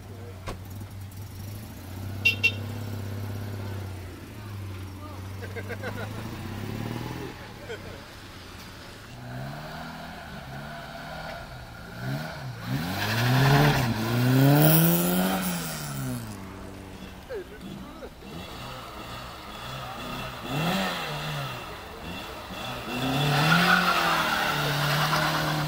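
A Peugeot 205 GTI 1.9 litre drives through Paris during a winter classic-car run, its engine rising and falling through gear changes, sometimes close and loud, with someone talking over it.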